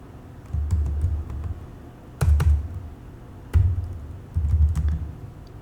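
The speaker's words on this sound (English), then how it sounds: "Then we're going to type in" Typing on a computer keyboard, close and clear, in four separate bursts of rapid key clatter with short pauses between them.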